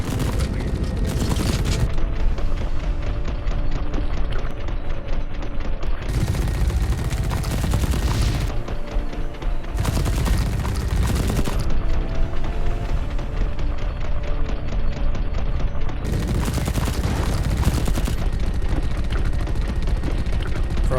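Heavy sustained suppressive gunfire in The Red Solstice, a dense continuous barrage with repeated louder bursts of automatic fire every few seconds, loud and close throughout.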